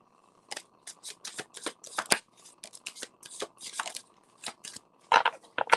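A tarot card deck is shuffled up close, producing a rapid, irregular series of crisp snaps and riffling bursts in quick clusters, with no talking.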